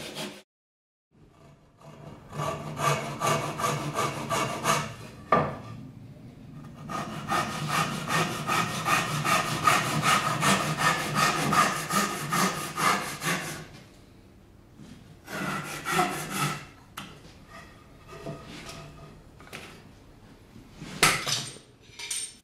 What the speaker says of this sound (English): use a dozuki, a Japanese saw with a reinforced back and thinner blade